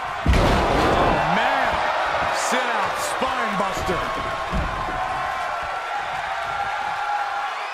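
A wrestler hits the mat with a vertical suplex in the WWE 2K20 video game, a Drew McIntyre vs. Dolph Ziggler championship match, one heavy thud over a loud, steady arena crowd roar while a commentator talks.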